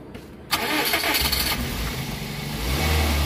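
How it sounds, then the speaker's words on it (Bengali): An ambulance's BVTI engine cranks and catches after a brief quiet moment, then settles into a loud, smooth idle that swells slightly near the end. "তো এখন দেখানোর চেষ্টা করব স্টার্ট করে সাউন্ড দেন ভাই স্টার্ট দেন"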